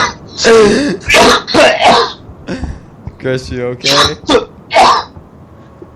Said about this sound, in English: just coughing because I started laughing while inhaling